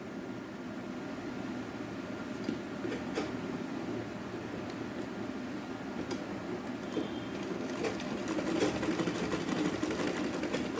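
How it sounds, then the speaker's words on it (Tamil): A sewing machine runs a steady lock stitch through fabric for a rose flower tassel, a continuous close whirring hum that builds slightly toward the end with faint ticks on top. "நல்லா லாக் ஸ்டிச் போட்டு"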